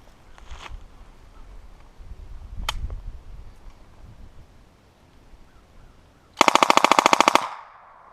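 A SWD M11 submachine gun fitted with a .22 upper fires a fast full-auto burst of Norma match ammunition from a 40-round magazine, loud and close, after a few seconds of quiet outdoor ambience with faint rustling.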